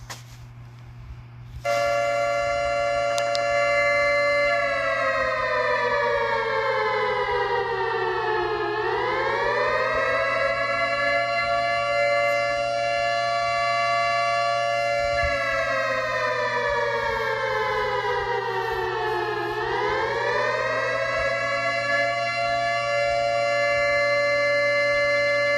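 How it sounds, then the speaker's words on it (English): An outdoor civil defense nuclear alarm siren sounds during a test, starting abruptly and then holding a loud, steady wail that dips and rises again twice over roughly twenty seconds, with a low hum underneath. "I'm going to give you like a little snippet of the nuclear alarm siren"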